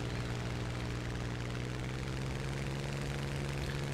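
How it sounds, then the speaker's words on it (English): A propeller plane engine in the War Thunder video game drones steadily throughout with a constant low hum, faint and unbroken, with no talking. "Come on, plane, hurry up."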